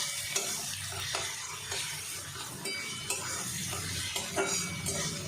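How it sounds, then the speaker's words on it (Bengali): Onions sizzling in a pan while being stirred for a Bombay duck curry, with steady frying hiss broken by repeated scraping and clinks of the spoon against the pan. "পেঁয়াজটা বেশ দেখুন ভাজা ভাজা হয়ে গেছে"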